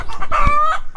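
Chickens call close by in one short, loud burst of clucking and crowing squawks, with no talk over them.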